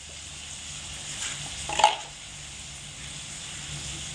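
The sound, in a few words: sautéing spiced potatoes in a pan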